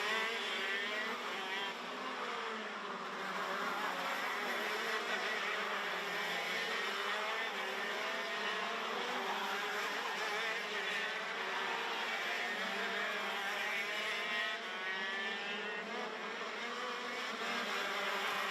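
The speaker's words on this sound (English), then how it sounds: "the gap between Kevin Stehauer and Jens Tur going on to the penultimate lap here on lap 14" KZ2, KZ2 Masters and Super Shifter racing karts howl around a track during a late race lap, a steady dense buzz of high-revving two-stroke engines heard at a moderate distance without a break.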